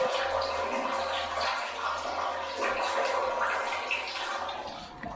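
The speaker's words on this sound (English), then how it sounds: "y'all can kind of see and hear how much water" Water pouring steadily into a reservoir box, a continuous close rushing and splashing flow with a low hum underneath, lasting the whole stretch.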